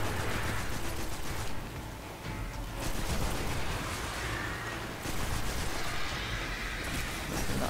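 Continuous auto rifle gunfire in the Destiny 2 video game, dense close bursts mixed with impacts and blasts running for several seconds with brief dips.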